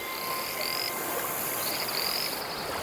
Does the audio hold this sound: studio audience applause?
no